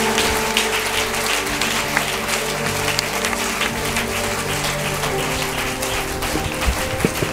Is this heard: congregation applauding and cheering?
yes